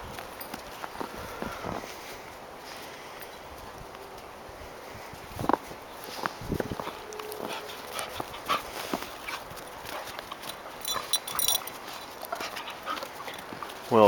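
Airedale terriers playing outdoors in snow during a snowstorm, with scattered paw thumps, scuffling and panting, bursts of brief activity over a quiet background.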